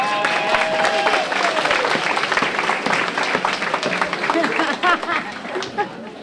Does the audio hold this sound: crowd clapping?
yes